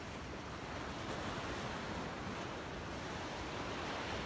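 Ocean waves crash and surge below a coastal point, a dense continuous roar of surf mixed with wind buffeting the microphone, steady and loud throughout with no talking.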